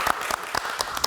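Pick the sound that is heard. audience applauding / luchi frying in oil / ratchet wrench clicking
audience applauding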